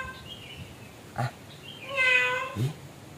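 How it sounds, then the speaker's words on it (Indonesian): A cat meows a few times, soft drawn-out calls separated by short pauses and faint clicks, fairly close in a quiet room. "Suara kucing?"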